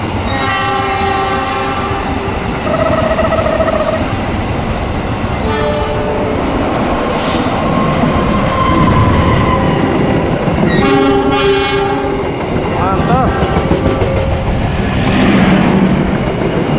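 Two Indonesian passenger trains, the Argo Parahyangan and the Jayabaya, pass each other with a loud roar of wheels on rails and repeated blaring horn blasts close by.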